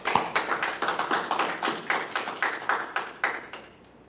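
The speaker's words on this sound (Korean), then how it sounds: "우리 강지무 목사님 한번 박수합시다" Audience applause at a 2021 church seminary graduation ceremony honoring a pastor, heard as a series of sharp, evenly spaced clap bursts that fade toward the end, with no talking.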